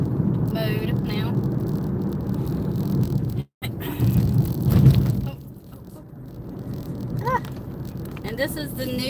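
Steady low engine rumble and road noise inside a moving car crossing toward a new bridge, continuous and close, with a person talking throughout.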